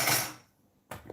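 Dishes and metal cutlery clatter in a kitchen drawer during a search for a fork: a loud burst of rattling, a brief quiet pause, then a second sharp clink and jangle close by.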